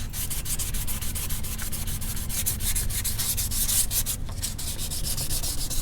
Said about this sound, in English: now I'm gonna take some 400 grit and feather edge